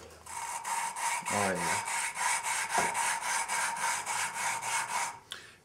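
Engine valves on a 1974 Honda CB750 being lapped with grinding compound, a continuous gritty rasping scrape with rhythmic back-and-forth pulses, close and steady, with a brief voice partway through.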